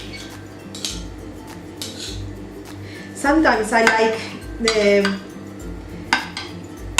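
Cutlery scrapes and clinks against a plate while a hot, molten-centred chocolate fondant cake is cut and served, with a few clustered clatters in the middle and a brief spoken word near the start.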